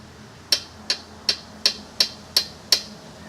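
A through bolt on a Kawasaki Z125 frame slider is snugged down with a ratcheting tool, giving seven sharp, evenly spaced metallic clicks close by over a quiet background.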